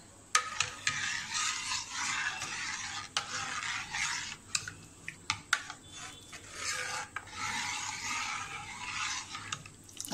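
A spoon or whisk stirs Parsi lagan nu custard mixture in a pan, a continuous rasping scrape with occasional sharper knocks against the sides, close and steady throughout.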